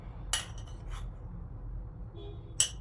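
A metal spoon clinks lightly against a dish a few times while measuring salty curd cheese, bright, brief taps spaced apart over a quiet background.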